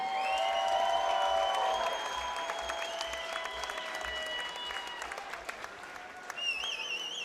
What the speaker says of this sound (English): a round of applause for these two warriors